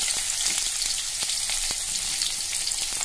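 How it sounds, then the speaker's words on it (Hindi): Chopped garlic, then onion, frying in hot oil for a simple pasta make a loud, dense, continuous sizzle up close, broken by faint scattered pops and crackles, with no voices. "अब कुछ देर के बाद हम कटा हुआ प्याज डाल दे रहे हैं।"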